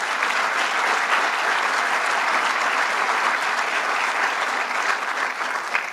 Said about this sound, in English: let's give him a round of applause, please